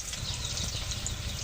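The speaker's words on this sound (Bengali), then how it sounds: "আমি হালকা করে পেঁয়াজ রসুনটা ভেজে নিলাম" Onion and garlic sizzle steadily in a hot pan, a close, even frying crackle with no talking.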